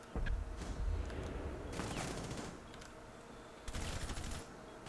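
Gunfire in Rainbow Six Siege: rapid bursts of automatic shots, one cluster near the middle and a longer volley toward the end, over steady game background noise with no talk.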